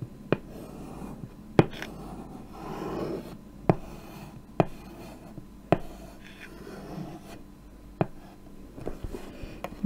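Chalk tapping and scratching across a chalkboard while Russian letters are written, with sharp regular strikes roughly every second between softer scraping strokes, close and alone in a quiet room.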